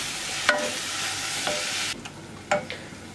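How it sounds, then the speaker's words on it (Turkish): Chopped mushrooms and onion sautéing in a pan, a steady hiss of frying broken by a few sharp scrapes of stirring, the sizzle dropping quieter partway through, close and with no talk. "Mantarla da bir süre kavuracağım."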